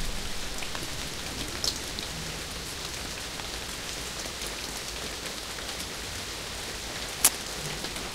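Steady rain falling in the video game Castle Meister, a continuous soft hiss of drops on a surface throughout, with one brief sharper tap near the end and no voices.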